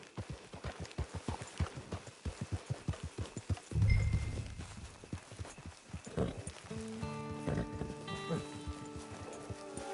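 Horse hooves clip-clop at a steady walking rhythm in Red Dead Redemption Online as the rider reaches camp, fairly close and clear, before slowing while in-game music swells in.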